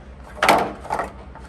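A GE Profile refrigerator door folds out with a soft wooden-sounding thump followed by a lighter second knock, close by and unaccompanied by talk.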